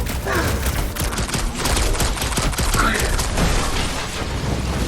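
Rapid blaster gunfire in the Guardians of the Galaxy video game, a dense burst of sci-fi shots and mechanical clatter in a combat scene, loud and sustained with character voices shouting in between.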